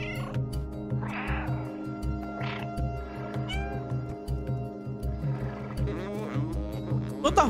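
An orange cat in the video game Stray meows several times, fairly close, over a steady pulsing game soundtrack with low rhythmic beats.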